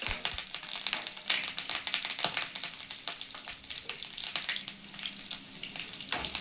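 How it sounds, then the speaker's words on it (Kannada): Curry leaves frying in hot oil, giving a dense, continuous crackling sizzle with sharp pops throughout, close up and with no voices. "ಸ್ವಲ್ಪ ಕರಿಬೇವು, ಚೆನ್ನಾಗಿ ಫ್ರೈ ಆದಮೇಲೆ"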